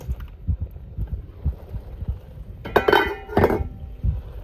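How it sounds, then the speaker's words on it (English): Seasoned vegetables are tipped into a cooking pot with a couple of clear metallic clanks and clinks near the end, following low thumping handling noises; close and fairly loud. "Now time to put this in the pot"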